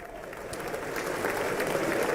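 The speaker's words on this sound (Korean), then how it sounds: "아직도 박수가 계속 쳐졌고" A chamber full of lawmakers applauds steadily during the South Korean president Yoon Suk Yeol's address to a joint session of the U.S. Congress, a continuous, even wash of clapping that swells slightly toward the end.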